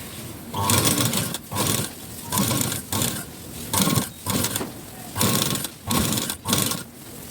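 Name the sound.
sewing machine stitching the front part of a blouse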